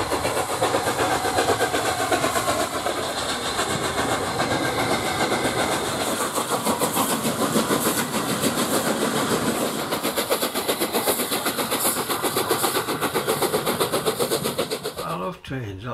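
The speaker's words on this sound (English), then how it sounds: "I took some videos of the Flying Scotsman running up and down" Flying Scotsman steam locomotive running along the Keighley and Worth Valley Railway, a dense continuous rumbling chuff and mechanical clatter that stays loud and steady throughout, with some voice underneath.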